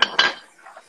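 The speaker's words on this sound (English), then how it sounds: "Does yours, try to move yours around the pan" Two quick metallic scrapes and clanks as an omelet pan is shifted on a stovetop, followed by a faint rattle, close and brief.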